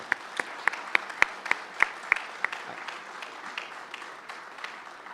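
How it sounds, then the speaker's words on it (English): Light applause from a gathering at a highway dedication ceremony, fairly quiet with a handful of sharper, distinct claps standing out in the first half before the clapping softens. "I think we owe all of our folks from the MoDOT a nice applause."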